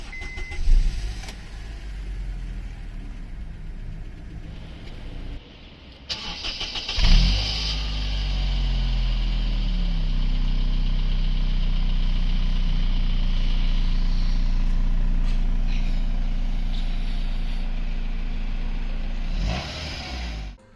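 A 2005 Honda Accord with a 2.0 i-VTEC engine, started with a key, cranks briefly after some faint clicks, catches with a rev flare, then settles into a steady, smooth idle heard from close by.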